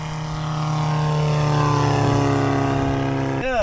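The 56-horsepower Peugeot diesel engine of a Gaz'Aile 2 light aircraft drones steadily with a propeller hum, loud and close, holding a constant pitch throughout.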